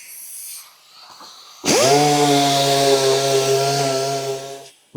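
A power sander works a Series 3 Land Rover dashboard with 500 grit paper, revving up abruptly to a loud, steady whining drone for about three seconds, then cutting off, preceded by quiet handling noise.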